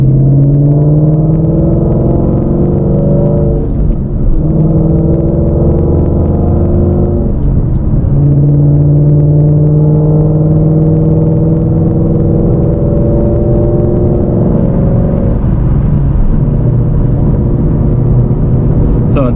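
A 2017 Mustang GT V8 driving in third gear, its engine a loud, continuous low rumble with rising and falling pitch as the car accelerates and eases off, heard from inside the cabin.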